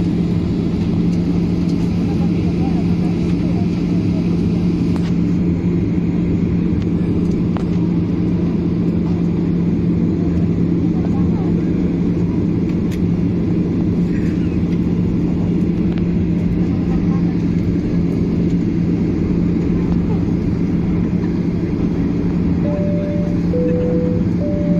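Steady loud airplane cabin drone while taxiing at Djalaluddin airport in Gorontalo, continuous low engine rumble and hum throughout, close and constant, with a brief chime near the end.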